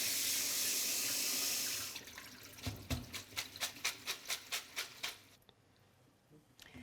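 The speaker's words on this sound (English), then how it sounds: "I'm going to strain them again and cool them down with cold water" Cold tap water runs over rice noodles in a strainer, a steady rushing stream for about two seconds, then a quick run of rhythmic splashy pulses as the noodles are shaken and rinsed, fading to quiet dripping.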